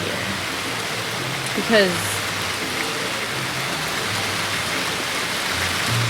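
Steady rain falls at a beach during a rainy party day, a dense continuous hiss of drops on surfaces with a brief voice speaking over it partway through.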